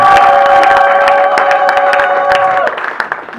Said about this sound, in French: applaudissez pour le coup